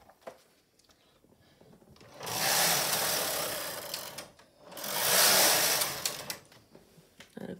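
A Silver Reed SK155 chunky knitting machine carriage is pushed across the bed twice while reading a pattern, making two loud rushing mechanical sweeps a few seconds apart, with quieter clicks and handling noises around them.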